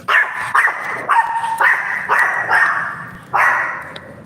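Several dogs bark nearby in a loose series of sharp, loud barks, about seven in quick succession with short gaps.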